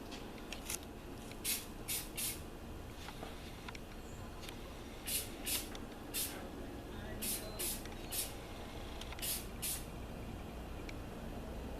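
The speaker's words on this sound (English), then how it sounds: "I just sprayed this once and it's already filling the room" A spray can misting coats onto copper for a forced patina, a series of short hissing bursts in clusters over low room noise.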